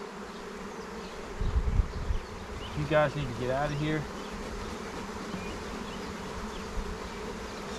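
Dense, steady buzzing of many honeybees around the entrance of a nuc hive being smoked during an inspection, continuous and close throughout, with someone speaking briefly over it.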